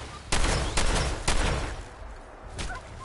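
Video game gunfire rings out as three sharp, loud shots in quick succession, then a pause before a fourth, softer shot.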